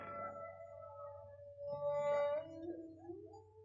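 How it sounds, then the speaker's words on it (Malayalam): Faint, drawn-out dog howls rising and wavering in the distance, several long tonal cries overlapping over a low background hum. "എവിടൊക്കെയോ പട്ടികൾ ഓലിയിടണു."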